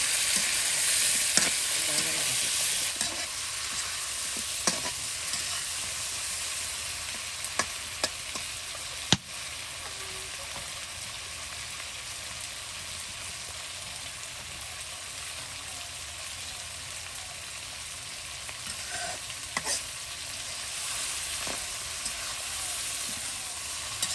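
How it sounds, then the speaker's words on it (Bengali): Chicken pieces coated in ground cumin and ginger spice paste fry in a pan with a steady, even sizzle, broken by occasional clacks and scrapes of stirring, heard close up without talk. "মাংস একদম দেখুন সুন্দর করে লাল লাল করে নেওয়া হচ্ছে ভেজে"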